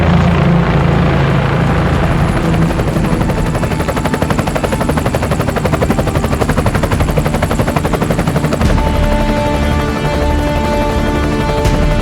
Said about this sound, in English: we use a helicopter